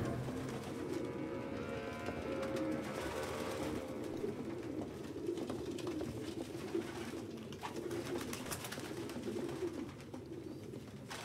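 Pigeons coo steadily throughout in Detroit: Become Human, a dense, continuous chorus of low throaty calls from many birds, close and fairly loud, with no talking over it.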